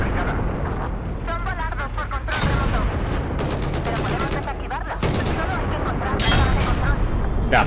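Dense gunfire and explosions in the video game Battlefield 4, bursts of rapid automatic fire and heavy booms layered over each other near and loud, with someone talking throughout.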